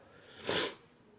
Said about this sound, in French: désolé si je renifle beaucoup, je suis enrhumé